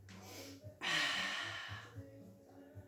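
An audible breath drawn in during a Pilates mat exercise, a soft airy rush of air swelling for about a second, with quiet background tones and light breath noise around it.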